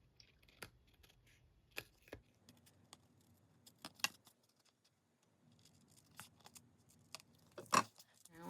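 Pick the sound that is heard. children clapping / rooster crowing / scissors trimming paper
scissors trimming paper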